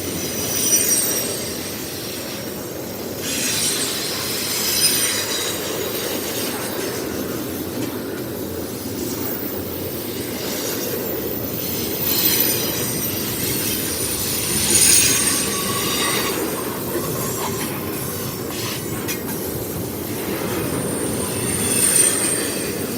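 A train rushes past close by on a cold, windy night in Stockbridge, Georgia, a steady loud roar with rattling wheels and occasional high metallic squeals, no voices.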